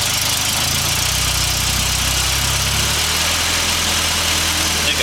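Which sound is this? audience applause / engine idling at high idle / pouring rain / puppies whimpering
engine idling at high idle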